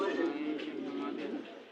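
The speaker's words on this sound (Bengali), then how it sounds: "ভাইয়ের কাছে খুব সুন্দর সুন্দর কবুতর আছে" Pigeons cooing amid a busy pigeon market in Bangladesh, with the soft, throaty coos running steadily under loud nearby conversation.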